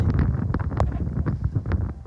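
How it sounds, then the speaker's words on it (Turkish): Wind blowing outdoors at a site where a wood-fired oven dome is being built, a steady broadband rush buffeting the microphone with gusty swells throughout. "O kadar güzel bir rüzgar var ki."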